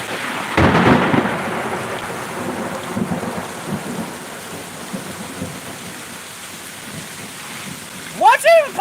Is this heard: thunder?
yes